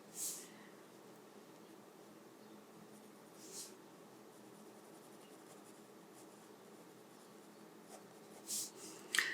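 A pen drawing on paper for a sea dragon sketch, a soft steady scratching with a few louder strokes, very faint and close with no talk.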